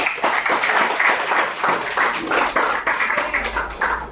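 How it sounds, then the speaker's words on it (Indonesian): Schoolchildren in a classroom clap together after a lesson on the solar system, a loud, continuous round of applause with a low rumble near the end. "tepuk tangan untuk kita semua"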